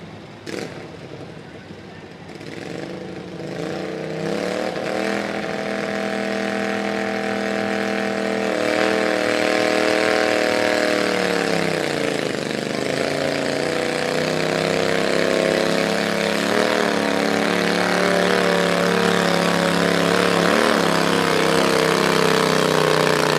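Twin-cylinder garden tractor governed at 5,000 RPM at a county fair tractor pull, its engine roaring loud and close and steadily climbing in pitch, with a brief dip midway, while an announcer talks over it.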